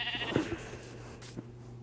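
Minecraft sheep bleats loudly once, with a shorter bleat right after and a faint third later, all standing out over a steady in-game hum.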